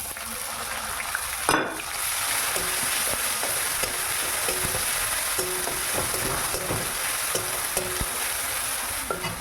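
Chopped onion with garlic and onion paste frying in oil for a chicken and cumin rice dish, a steady loud sizzle broken by a sharp clatter and repeated scraping stirs of a spoon against the pan.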